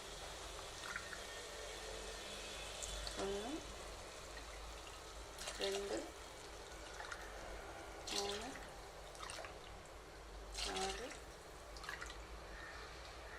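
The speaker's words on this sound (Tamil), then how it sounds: "இப்போ வந்து தண்ணி ஊற்றிடலாம்." Water is poured in four separate splashing bursts into a pressure cooker of soya biryani, with quiet gaps and soft drips between, while a voice counts aloud alongside.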